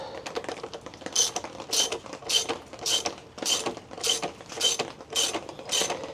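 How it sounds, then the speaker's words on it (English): A socket wrench ratchets to tighten parts on a cheap Chinese dirt bike, about ten evenly spaced clicking strokes in a brisk rhythm, close and clear with no talk. "grab your size 17 wrench and a size 19 socket, and now we're going to tighten up this up"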